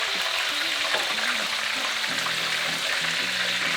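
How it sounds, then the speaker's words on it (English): Shandong chicken deep-frying in hot oil, a steady dense hiss and crackle holding evenly loud throughout, with faint tonal sounds in the background and no talking. "let's keep frying this till it's golden brown"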